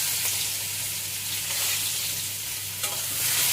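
Sliced onions fry in hot oil with a constant close crackling sizzle, joined by scraping stirring strokes and a low steady hum underneath; no talking.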